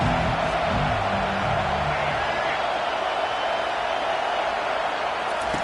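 A football stadium crowd at a UNC vs Miami game roars in a steady, dense wash of cheering that holds throughout, loud and continuous.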